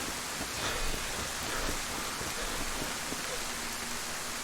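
Steady rain falling across a medieval village in a video game, a dense, even hiss of drops that holds at the same level throughout without a break.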